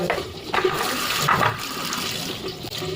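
Water gushes and splashes steadily into a pan of cut eggplant, a close, continuous pour that falters briefly near the end.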